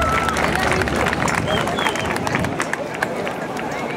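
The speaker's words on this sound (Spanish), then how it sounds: "Fuerte el aplauso." Crowd applause at a rodeo bull draw before a jaripeo in Mexico, clapping and cheering under an announcer's voice.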